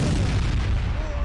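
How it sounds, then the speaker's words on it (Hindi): Loud explosions in Tehran, a dense rumbling blast roar filling the short moment, heavy low booms with no clear gaps. "क्या तेहरान में हुए जोरदार धमाके अमेरिका और इजराइल की तरफ से राउंड 2 हमले की शुरुआत हैं?"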